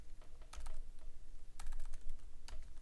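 Keys clatter on a computer keyboard in quick irregular bursts of typing, close and fairly faint, with no voices.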